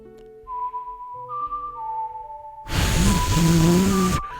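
An in-game ocarina tune from Ocarina of Time: soft, sustained melodic tones that swell into a louder passage over a dense rushing wash of sound before cutting off.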